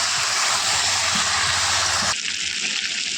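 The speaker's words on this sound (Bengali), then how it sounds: "দেখো, এবারে জল ঢেলে দেবো।" Water pours steadily and loudly into a pot of chicken and potato curry, a broad rushing gush that cuts off abruptly partway through, leaving a quieter residual sound.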